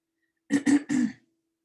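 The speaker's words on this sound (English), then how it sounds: "Of course I'm going to cough" Three quick, rough throat-clearing coughs in a row, close and isolated against silence.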